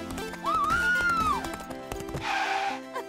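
A horse gives a loud, rising and falling whinny, followed by a short burst of snorting or hoof noise, close by with no voices.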